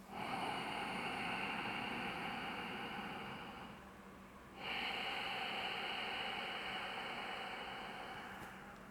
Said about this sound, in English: when you inhale through the nose, you can hear the hissing at the back of the throat